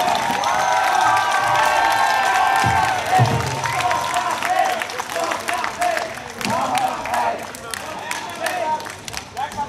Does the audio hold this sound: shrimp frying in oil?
no